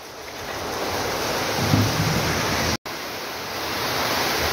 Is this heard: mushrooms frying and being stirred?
no